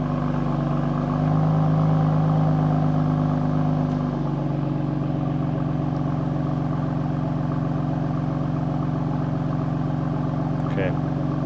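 A car engine started in sport mode runs loud and close, with a strong rumbling drone that shifts down to a steadier, slightly quieter note partway through.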